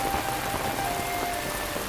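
Heavy rain falling in a drama set around a palace garden, a dense, even hiss of drops striking surfaces that stays steady and loud throughout with no voices.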